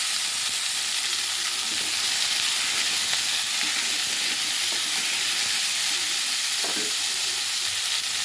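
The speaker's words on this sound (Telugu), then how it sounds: "ముందుగా కరివేపాకు వేసుకుందాం. తర్వాత కట్ చేసుకున్న ముక్కలు వేసేసుకుందాం." Curry leaves and chopped vegetable pieces fry in hot oil for a Telugu drumstick dal rasam, giving a steady, close, loud sizzle and hiss throughout with faint stirring scrapes and no talking.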